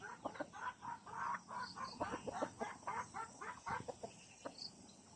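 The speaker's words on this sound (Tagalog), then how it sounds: "Mga alagang manok." Several chickens cluck and squawk in quick, irregular bursts close by in the rural countryside, with a steady patter of rain in the background.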